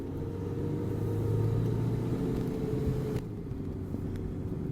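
A 1991 Ford Explorer cruises on the highway with a steady low engine rumble and road drone inside the cabin. The pitch rises, then dips at a gear shift near three seconds, and the engine settles afterward.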